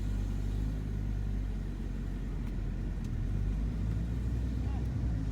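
BMW E60 M5 running just after new rod bearings, engine mounts and control arm bushings went in, a deep steady idle rumble heard close and continuous throughout.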